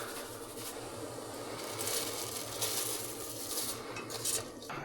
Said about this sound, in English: And meanwhile, I'll do the dishes.